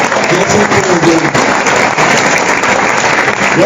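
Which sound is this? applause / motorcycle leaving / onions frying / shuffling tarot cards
applause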